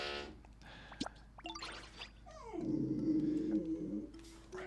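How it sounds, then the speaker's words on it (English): A pet dog named Maple indoors reacts to another dog outside, giving a few sharp yips and barks, then a long, drawn-out whimpering whine, close and fairly loud. "There's a dog outside, so Maple's going crazy."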